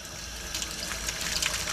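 Soft, steady hiss of water running from a bathtub tap during a plumbing repair on a snapped waste and overflow, faint and continuous with no talking.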